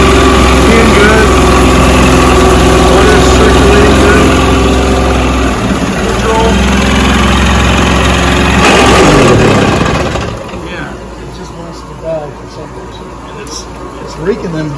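1973 Mercury 40 hp outboard motor running steadily and loudly, with a harsh gear-raking grind from the lower unit, then the engine note drops and quiets after about ten seconds.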